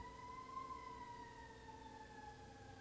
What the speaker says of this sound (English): Can you hear the fucking fire truck?